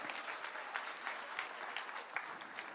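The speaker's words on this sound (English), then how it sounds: "Can you give her a hand clap?" Sustained crowd applause for the principal at an Academy Charter School 8th grade graduation in Hempstead, a dense, even wash of clapping that carries steadily throughout without pause.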